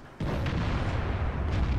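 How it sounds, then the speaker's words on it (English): A deep explosion in the tank game World of Tanks, a loud sudden boom that erupts and rumbles on heavily for nearly two seconds with lighter bursts layered on top. "Explosions."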